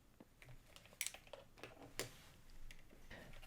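Keys pressed one at a time on a homebuilt Don Lancaster ASCII keyboard, giving sharp, faint, separate clicks at an irregular pace, close by, with no talking.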